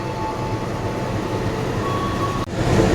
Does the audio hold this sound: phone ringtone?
no